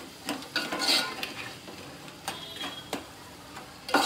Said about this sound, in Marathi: तर चांगल्या प्रकारे मिक्स करून घ्यायचं